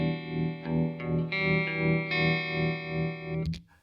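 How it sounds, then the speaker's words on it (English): Guitar through a Red Witch Moonphaser pedal on its tremolo setting: a few sustained notes with a rhythmic, evenly spaced volume pulse, ending in a brief string noise. "And then the last setting is the tremolo, which sounds like this."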